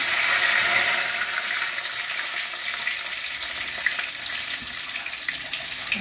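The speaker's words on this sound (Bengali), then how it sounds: "জিরার ছোপ দিলাম, 4-5টা তেজপাতা দিয়ে দিলাম" Cumin seeds and four or five bay leaves dropped into hot mustard oil give off a steady, loud, close sizzle with a bright crackling hiss that holds throughout.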